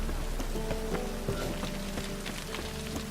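Steady rain in The Witcher 3: Wild Hunt, a dense continuous patter with scattered drops, heard alone without voices at a moderate, even level.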